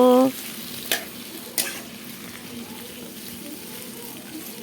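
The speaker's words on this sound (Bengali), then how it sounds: "তেলটা গরম হওয়ার পর আলুগুলো দিয়ে দিয়েছি। আলুগুলো ভেজে নেই। আলুগুলোকে লাল লাল করে ভেজে নেব।" Potatoes frying in hot oil in a wok for a potato, eggplant and tomato vegetarian dish, a steady low sizzle after a brief tonal sound at the start, with a couple of sharp clacks from stirring.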